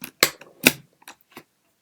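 A few sharp plastic clicks and scrapes as a USB flash drive is pulled out of a Mac and pushed back in, close and isolated against silence.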